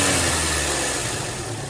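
A 2003 Chevrolet Cavalier with the 2.2 Ecotec engine idling close up, a loud steady low rumble with a slight vibrating quality and no talking.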